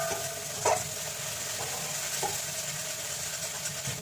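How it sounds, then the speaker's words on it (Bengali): Spices with chilli and kasuri methi sautéing in a pan for a restaurant-style mixed vegetable paneer curry: a steady, close hiss of frying with a few soft stirring scrapes over it and no voices. "কসৌরি মেথি দিয়ে ভালো করে আরও খানিকক্ষণ কষাবো।"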